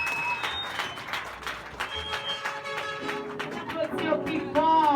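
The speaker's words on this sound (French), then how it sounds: "Applaudissez au plus fort." Church congregation clapping and cheering loudly at a worship service, a dense, sustained wash of applause with shouts and voices mixed in throughout.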